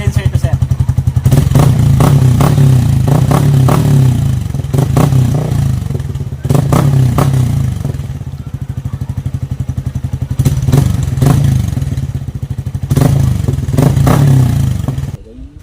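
A Yamaha Sniper 155 motorcycle fitted with a full-system muffler and silencer idles and revs repeatedly, loud and close, the engine rising and falling in several throttle blips over a steady rumble, with people talking at times.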